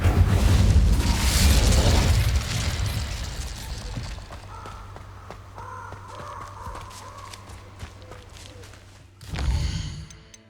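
An Incendio fire spell cast in the video game Hogwarts Legacy: a loud whooshing, crackling burst of flame at the start that fades over several seconds, with a second sharp burst near the end; no talking.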